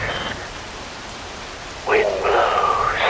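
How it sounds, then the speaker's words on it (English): Steady rain falls in the video game Metal Gear Rising: Revengeance, a constant broadband hiss that holds throughout, with a voice speaking over it in the last second. "Rain falls."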